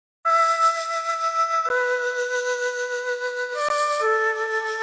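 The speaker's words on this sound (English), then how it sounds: "The sound that I'm talking about is the classic Lotus flute from Omnisphere" Omnisphere Lotus flute patch playing a breathy, airy synth flute melody alone, sustained tones stepping between pitches with soft attacks and steady loudness.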